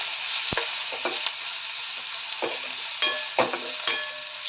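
Boiled potato and green chilli paste are stirred together in a pan while making sabudana vada, giving soft scraping strokes and a few louder knocks over a steady low sizzle, close and with no talk.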